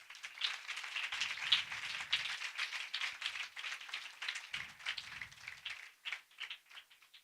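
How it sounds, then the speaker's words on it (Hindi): Church congregation applauding at a Sunday service, a dense, steady wash of clapping from many hands that swells and then thins toward the end, with no talking over it. "उस खुदा के लिए जोरदार तालियां।"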